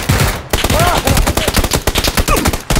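Rapid bursts of gunfire from the video game PUBG, dense and loud throughout with repeated sharp cracks, and no gaps beyond a brief pause near the start.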